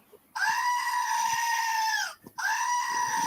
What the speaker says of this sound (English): There's that goat. There that goes. Screaming as always.